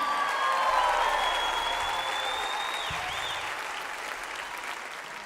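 Audience applause fills a Grand Ole Opry live show, a steady, dense wash of clapping with some cheering, close and loud throughout and slowly easing toward the end.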